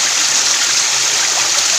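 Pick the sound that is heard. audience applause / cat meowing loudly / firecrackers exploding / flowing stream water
flowing stream water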